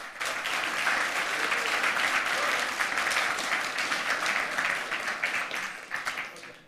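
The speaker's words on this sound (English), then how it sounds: "So please give him a warm round of applause." Warm applause fills a hall for a speaker at a hacker conference talk on GSM baseband security, a dense, continuous roar of many hands that tapers off right at the end.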